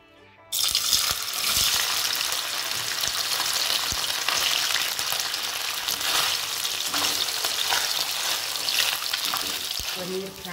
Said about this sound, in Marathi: आता या तेलामध्ये आपल्याला हे साहित्य पनीर आणि बाकीचे साहित्य आपल्याला याच्यातून फ्राय करून घ्यायचे आहे